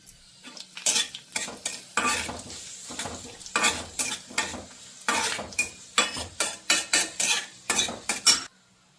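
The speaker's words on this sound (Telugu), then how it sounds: "ఇప్పుడు నేను ఒక 2 ఎండుమిరపకాయలు ఇలా తుంపి వేసేసుకుంటున్నాను" Dried red chillies, broken by hand, frying in tempering oil with a popping sizzle and rapid, repeated metal spoon scrapes and clanks against the pan, close and loud with no voices.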